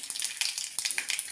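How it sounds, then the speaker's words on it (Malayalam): Mustard seeds popping in a tablespoon of hot coconut oil, a quick run of sharp close crackles and pops in irregular bursts, fairly faint with no voice. "കടുക് പൊട്ടി തുടങ്ങി"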